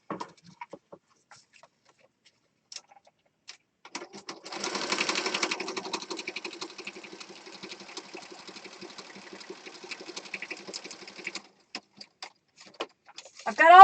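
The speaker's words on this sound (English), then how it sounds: "And we're going to sew that down." A sewing machine stitches glued gel print pages together, a soft rapid rattle of needle strokes running in bursts, fairly quiet and close, with brief pauses between runs.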